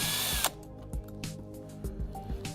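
A power drill spins to loosen screws on a three-point seatbelt fastener, with a short whirring burst at first and then several quieter ratcheting clicks and brief spins, close by and heard without any speech.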